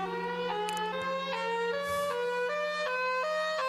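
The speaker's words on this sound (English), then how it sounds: "the alternating wail, which kind of mixes the high-low with the attack mode" Alternating wail tornado siren mixing high-low tones with attack-mode rises, several repeating pitch steps over a steady low hum, somewhat distant and faint with no talk.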